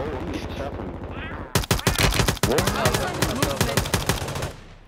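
Rapid automatic gunfire rattles in a dense, close burst of shots in Call of Duty: Modern Warfare 3, preceded by softer game noise and tailing off at the end.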